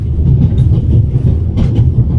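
A loud, steady low rumble of a train running on rails in the video game The Raven: Legacy of a Master Thief, with continuous rolling clatter and faint higher rattles, no voices.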